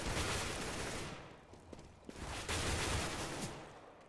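Gunfire exchange in a competitive tactical shooter match at the World Championships Oceanic qualifier, dense bursts of rapid shots that fade and then return loud, with no talk.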